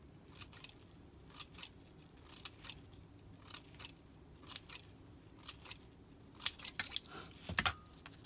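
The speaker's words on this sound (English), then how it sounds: "And you can snip this in." Scissors snip tissue paper in a steady run of quick, crisp cuts, close and fairly soft, a few paired snips near the end, with no talking.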